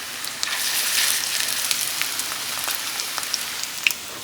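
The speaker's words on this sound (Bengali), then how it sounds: "চাল কুমড়োর বড়াগুলো সব এইভাবেই ভাজা করে নিই" Ash gourd fritters fry in hot oil, giving a steady close-up sizzle with scattered small pops and crackles throughout.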